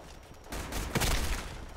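A short burst of gunfire in the video game Black Squad erupts about halfway through, a dense crackling volley against a muffled background, moderately loud.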